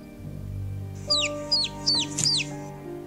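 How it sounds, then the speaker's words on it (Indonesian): A chick gives four thin, high peeps in a row, each a quick downward chirp, close and clear over a soft, steady background hum. "Kali ini aku bisa mendengar suara anak ayam itu."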